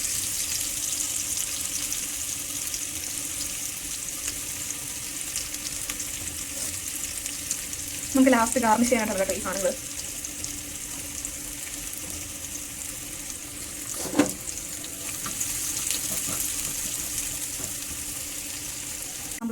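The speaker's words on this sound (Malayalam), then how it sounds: "ഈ കുറച്ച് സവാള ചെറുതായിട്ട് അരിഞ്ഞ് കൂടി കൊടുക്കാതെ ഇത് നമ്മളൊന്ന് ഫ്രൈ ചെയ്തെടുക്കാം" Chopped onion frying in oil in a pan while ghee rice is made, with a steady broad sizzle throughout and a short burst of stirring and clatter midway; a voice speaks briefly over it.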